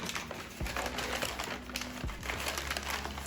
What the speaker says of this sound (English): butcher paper folded out.